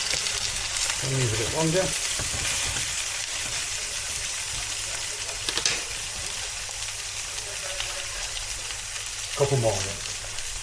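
An egg fries in a pan for a spicy Spanish-style egg dish, with a constant close sizzle and crackle and a few brief stirring or scraping sounds. Someone speaks briefly over the frying.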